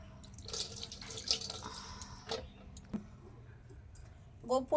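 Gangajal and plain water poured over deity idols during a bathing ritual, heard as scattered drips, trickles and small splashes with a faint background murmur and a brief voice near the end.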